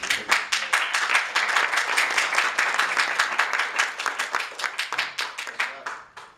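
Audience members at a city council budget meeting clap in a brisk, uneven round of applause that runs for several seconds before thinning out into scattered claps.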